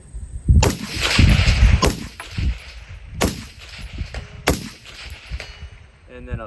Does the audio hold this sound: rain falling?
no